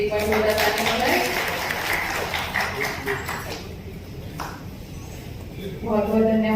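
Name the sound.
applause at an award ceremony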